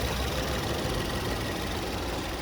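A 2013 Ford Fusion Titanium's 2.0-liter turbocharged inline-four EcoBoost engine runs at a steady idle, a continuous, fairly loud hum and rumble heard close up without any talking.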